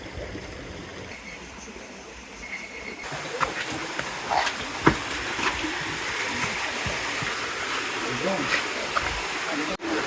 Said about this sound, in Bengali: এই জিরির পানি একবারে কম, এই স্রোত আসতে ধীরে।